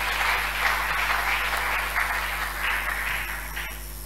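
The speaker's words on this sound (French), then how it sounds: "Vous pouvez acclamer pour le Seigneur." A church congregation applauds for the Lord during a French-language prayer service, steady broad clapping sustained throughout at a fairly even loudness, with no speech over it.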